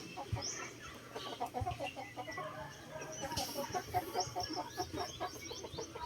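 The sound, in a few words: chickens clucking in a chicken coop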